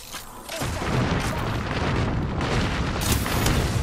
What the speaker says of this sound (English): Threw a grenade.